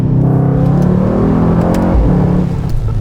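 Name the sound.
tuned Mercedes-AMG GT 63 S 4-door coupé accelerating on road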